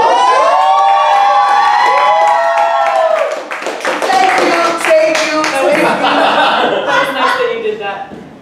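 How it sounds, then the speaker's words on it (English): An audience at a comedy show at Just The Funny in Miami erupts with loud whoops and laughter, then breaks into scattered clapping that carries on as the crowd noise settles. "They were applauding for me"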